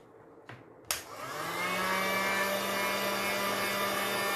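A heat tool clicks on and settles into a steady, close blowing whir, drying black gesso on an MDF panel, running continuously without talk.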